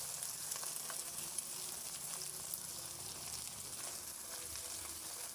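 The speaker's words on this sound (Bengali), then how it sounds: "এটা ভালো করে কষাতে হবে, কারণ মাংস আর ডিমটা খুব সুন্দর করে কষাতে হবে।" Meat and eggs sautéing in a pan, a steady, soft sizzle running the whole time with faint stirring ticks, close but quiet, no talk.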